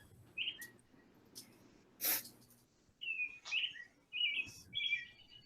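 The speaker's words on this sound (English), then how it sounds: "I hear birds chirping." Outdoors by a pool, several short bright bird chirps and tweets sound at a moderate distance in quick bursts over a quiet background, with a brief breathy noise in between and no talking.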